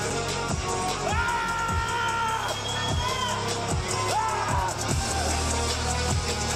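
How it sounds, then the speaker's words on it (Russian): Arena crowd at a Kazakh MMA event roaring and cheering for a fighter after a unanimous decision, a dense sustained wash of voices with whoops and shouts rising over steady low rumble. "Аплодисменты, бойца!"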